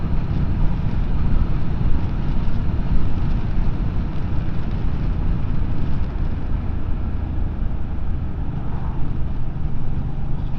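An MBP C1002V cruiser motorcycle riding over bumpy roads at speed, giving a steady, loud low engine rumble mixed with rushing wind noise throughout, with no voices.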